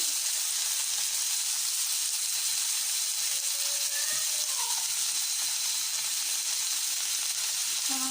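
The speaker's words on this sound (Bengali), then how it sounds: "আমি এক এক করে সব মাছগুলো দিয়ে দিচ্ছি আর সরিষার তেলে কিন্তু এরকম ফেনা উঠে" Small fish sizzle and crackle in foaming mustard oil in a pan, a loud continuous fry hiss with a few faint tonal squeaks, and no talk.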